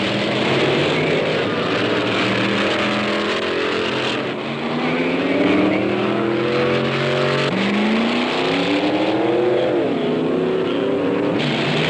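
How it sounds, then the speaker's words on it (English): A 1965-era hot rod drag racing car's engine roars through a run, loud revs climbing in repeated rising sweeps as the car accelerates, with no speech over it. "The rhythmic pattern continues, run after run after run, to squeeze every ounce of performance the engine has to offer."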